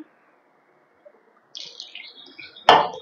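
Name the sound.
water poured into flour to make jalebi batter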